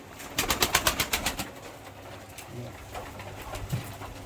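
Pigeons in a coop of a Bulgarian-immigrant pigeon breeder coo in a close, rhythmic burst of pulsing calls at the start, then fainter coos and soft rustling follow.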